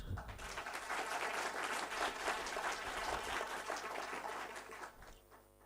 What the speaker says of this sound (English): Let's clap hands for that.